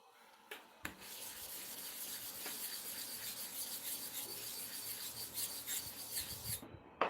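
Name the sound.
clipper blade rubbed on a sharpening stone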